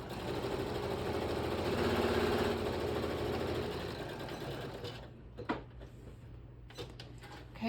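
A sewing machine stitches fabric for a Christmas gift bag, a fast steady mechanical whir for about five seconds before it stops, followed by a few faint clicks and handling sounds.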